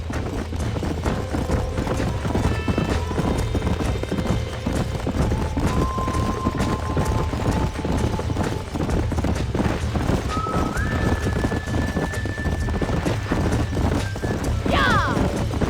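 Horse hooves clop rapidly while several horses neigh and whinny in Red Dead Redemption, with a distinct whinny near the end over a busy game background.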